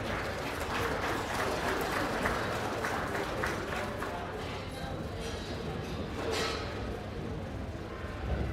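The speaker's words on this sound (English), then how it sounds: "Give them all a great big round of applause." Applause from the audience at a county fair goat show, a steady broad patter of many hands clapping at moderate distance that carries through the whole stretch.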